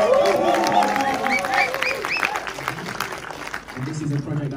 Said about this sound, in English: Yes, come on, give some round of applause.